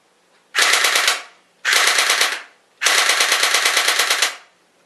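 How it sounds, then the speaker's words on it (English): Three close bursts of rapid automatic fire from a Well D-91 electric airsoft gun, the last longest, each a fast mechanical rattle of shots at about 400 rounds a minute. "So now we're going to give you a small example of fully automatic fire."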